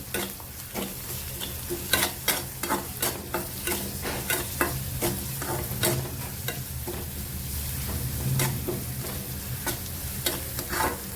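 Ginger-garlic paste frying with onions and curry leaves for a mixed sprouted-lentil vegetable dish gives a continuous close sizzle, punctuated by rapid, regular spatula scrapes against the pan.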